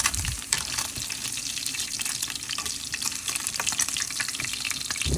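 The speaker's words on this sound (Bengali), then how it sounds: "এটাকে আমি ভালোভাবে ভেজে নেব।" Mustard hilsa (shorshe ilish) frying in a pan, giving a steady, close, continuous sizzle and crackle with a few sharper pops and no voices over it.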